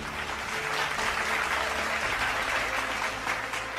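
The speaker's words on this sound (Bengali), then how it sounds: "তার জন্য একটি জোরে করতালি।" Loud, steady applause from an audience at the Tiger Run Dhaka 2025 award ceremony, honouring the men's category second runner-up, dense clapping sustained throughout with no break.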